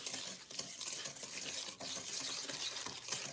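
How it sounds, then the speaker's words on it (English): A whisk stirs brown sugar into cookie dough in a bowl, giving a continuous close scraping and swishing with rhythmic strokes, fairly quiet and without talk. "I'm going to use my whisk to stir it together"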